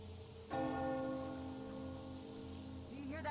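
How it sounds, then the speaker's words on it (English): A church bell in the game Metro Exodus strikes once and rings on with a long sustained hum, a second soft strike near the end, over quiet rain-like background noise. "Do you hear that bell?"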